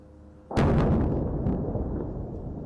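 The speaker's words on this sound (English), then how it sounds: "following reports of a possible explosion near the embassy" A single loud, booming blast near the US Embassy in Oslo, Norway, erupts suddenly out of quiet background noise and then rumbles and echoes away over the next two seconds.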